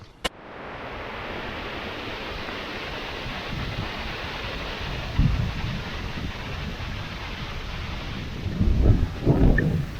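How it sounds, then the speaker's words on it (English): Strong wind roars steadily outdoors during a woodland squirrel hunt, a dense rushing buffet against the microphone with a few louder gusts near the end. "we're almost home, and the wind really picked up"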